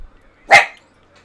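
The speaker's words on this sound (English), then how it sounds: "You need to not bark right now." A single close, loud bark from a dog indoors, one short burst standing alone against near silence.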